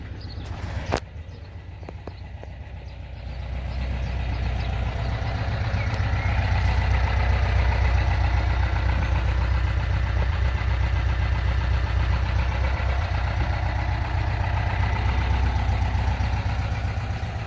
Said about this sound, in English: Give it a few revs so you can hear it.